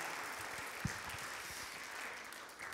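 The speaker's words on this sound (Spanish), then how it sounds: "A strong round of applause." A church congregation claps steadily through the sanctuary during a bilingual service, a faint, even wash of applause from a seated crowd heard at a distance, with one brief thump partway through.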